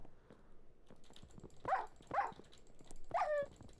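A dog in the Minecraft video game gives three short whimpers and yips in quick succession, moderately loud over faint background game noise.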